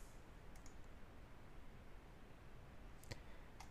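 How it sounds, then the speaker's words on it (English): Computer mouse clicking while editing DNS zone settings in WHM cPanel: a few faint, sharp clicks, one pair early and another pair near the end, over a steady hiss of background noise. "Click save."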